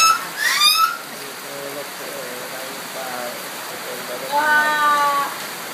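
Steady rain hiss fills the background while people talk quietly over it; a cat meows briefly near the start.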